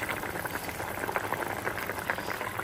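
Liquid bubbles at a steady rolling boil in a pot with panch phoron, waiting for fish to be added. The continuous soft gurgling and popping is close by and fairly quiet, with no talk.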